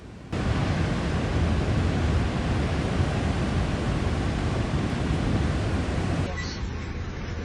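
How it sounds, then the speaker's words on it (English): Large storm waves crash against the Santa Cruz pier, a loud, continuous roar of surf and wind that cuts off abruptly near the end. "large waves demolished part of the pier in the middle of storm season"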